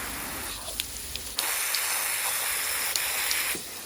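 Water spraying onto a dirty door mat, a steady close hiss that cuts in and out with a few small knocks and splashes.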